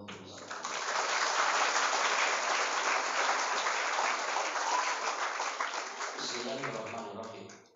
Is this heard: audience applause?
yes